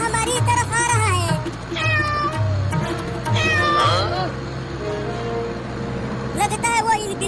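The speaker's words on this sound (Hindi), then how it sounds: "एक बिलोटा हमारी तरफ आ रहा है" A cartoon tomcat meows repeatedly in drawn-out, wavering cries. The meows are loud and close and arrive in several bursts over a low, steady engine drone.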